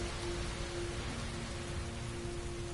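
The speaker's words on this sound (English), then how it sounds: "Heavy rain." Steady, dense heavy rainfall in a video game pours down continuously, a broad hiss of drops with a faint low tonal hum running underneath.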